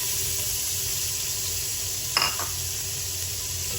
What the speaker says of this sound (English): Fry your dried chili